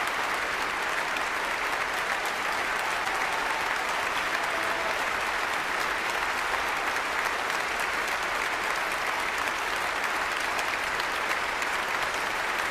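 A concert audience in Vienna gives thunderous applause for a pianist's performance. Dense, steady clapping from a large crowd fills the whole stretch at an even, loud level with no pauses.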